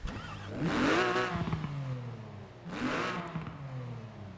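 A Porsche sports car engine in the video game Forza Horizon 4 fires up and revs twice, each burst swelling then dropping back to a rumbling idle, loud and close.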